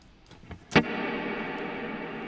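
An electric guitar strum with a heavy ambient reverb effect, struck once and left to ring out in a wide, washy sustained tail with no talk.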